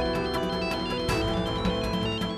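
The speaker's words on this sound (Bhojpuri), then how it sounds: "फोन बजता, पता नहीं कहाँ है रहल हाई" A mobile phone ringtone plays steadily and loudly for the whole stretch, a layered musical tune with a busier swell midway and no voices over it.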